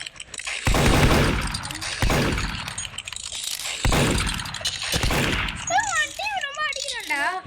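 Gunfire in the Roblox video game, with several loud bursts of rapid shots spaced a second or so apart, under someone talking excitedly.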